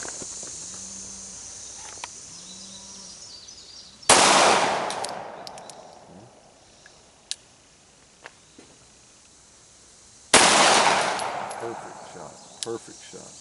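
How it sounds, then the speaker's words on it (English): Two sharp, loud gunshots about six seconds apart at an outdoor shooting range, each followed by a long decaying echo, with faint background noise between them. "And give me three shots just like that."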